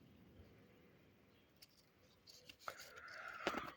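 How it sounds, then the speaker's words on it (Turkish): A blade scores lengthwise through the bark of a tree, giving short, faint scratchy strokes that grow louder and more frequent toward the end, with a sharper rasping scrape near the close. "Sadece kabuğu arkadaşlar burada çiziyorum bu şekilde."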